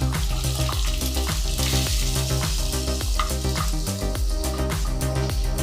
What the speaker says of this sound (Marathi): आता त्यामध्ये कांदा टाकायचा.